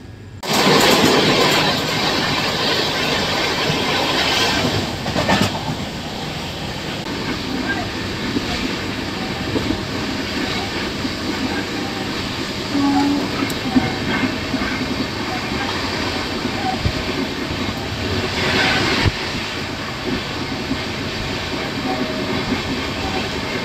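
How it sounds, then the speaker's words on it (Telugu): An express train runs slowly under a 30 km/h speed restriction on the Vijayawada–Bhimavaram route near Gudivada Junction. Steady close rumbling and wheel clatter carry on throughout, with occasional louder clanks and some talking in the background. "ప్రజెంట్ అయితే ఇక్కడ TSR వచ్చేసి 30 kmph ఉందండి. ట్రైన్ స్పీడ్ రెస్ట్రిక్షన్ అండి TSR అంటే"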